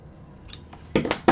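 Scissors snip through excess material on a handbag side panel, a few crisp close cuts clustered near the end after a quiet pause, with no talking.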